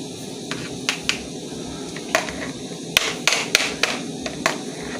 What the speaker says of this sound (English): So let us grind our ginger. This is a dried ginger.